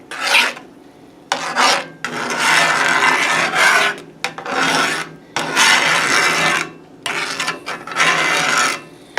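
Repeated harsh scraping of a utensil against a pan of thick tomato gravy, loud bursts in uneven strokes with brief pauses between, no talking.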